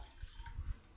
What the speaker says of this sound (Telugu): నేను వాటర్ వేసేసుకుంటున్నాను.